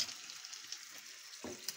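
Dumplings sizzle in a frying pan after a splash of water is added, a soft steady crackle with a brief stirring scrape near the end, faint and without talk.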